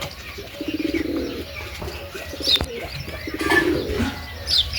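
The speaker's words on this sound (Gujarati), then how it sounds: "જો કબૂતર નવું આવ્યું છે." A pigeon at a home loft coos in several rhythmic bursts close by, each a run of soft throaty pulses, with light chirps and a brief flutter between them.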